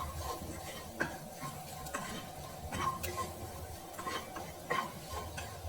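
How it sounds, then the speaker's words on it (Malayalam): A spoon scrapes and clatters around a pan while spices and mint are stirred for Iftar snacks, with soft frying sizzle underneath and occasional sharper clinks against the metal. "നന്നായിട്ട് ഇളക്കാം."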